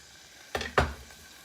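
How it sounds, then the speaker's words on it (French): Two quick bursts of sizzling as shallot drops into hot sunflower oil in a pan, close and fairly quiet, with a brief clatter of the pan. "Dans une casserole chaude, versez votre huile de tournesol et mettez-y l'échalote."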